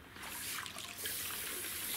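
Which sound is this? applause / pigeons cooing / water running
water running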